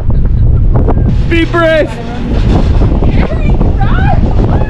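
Wind gusts roar continuously into the microphone at a tent campsite, loud and close, with people talking over it.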